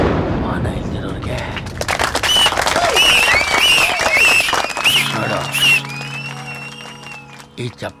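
An audience bursts into dense clapping and sharp whistles during a Kannada film scene, the cheering swelling for several seconds before fading out.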